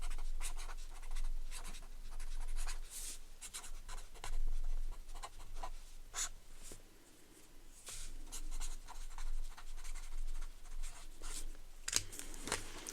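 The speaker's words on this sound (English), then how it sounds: "Let's write that down." A pen scratching on paper close up, in soft irregular strokes with small taps, quiet and continuous throughout.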